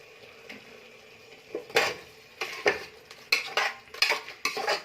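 Vegetable biryani mixture stir-fried in a pan after a squeeze of lemon juice, with repeated clattering scrapes of a spoon against metal over a quiet background sizzle, no voices.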